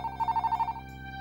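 A telephone rings with a rapid trilling bell burst lasting under a second, then a faint tone lingers, close and clear against quiet background music.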